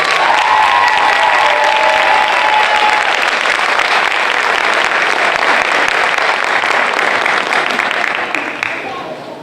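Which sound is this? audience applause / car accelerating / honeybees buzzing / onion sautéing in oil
audience applause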